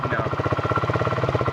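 A Chinese GY6 49cc scooter engine with a hole drilled in its restrictive stock exhaust putters at a fast, even idle, each small pulse distinct and close.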